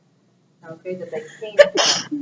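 A single sharp sneeze bursts out near the end, right after a man's speech in a quiet precalculus lecture room.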